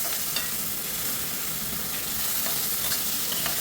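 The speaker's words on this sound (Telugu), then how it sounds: "బాగా ఆనియన్స్ బ్రౌన్ సైడ్ వచ్చిన తర్వాత మనం దీన్ని బాగా ఫ్రై చేసుకొని" Onions frying in a pan with curry leaves, green chillies and ginger-garlic paste, a dense close sizzle with faint stirring scrapes, steady and loud with no voices.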